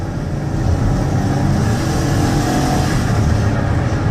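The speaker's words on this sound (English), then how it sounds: "get them out on the highway so you can hear the engine run, you can hear the transmission shift" A 2016 Dodge Caravan SE minivan engine accelerates steadily under load on the highway with road and wind noise, a continuous loud drone heard from inside while driving.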